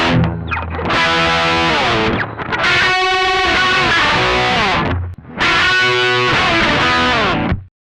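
An electric guitar played through an Ibanez TS9 Tube Screamer overdrive pedal gives a thick, mid-heavy driven tone in three loud sustained phrases separated by brief gaps, with no voices.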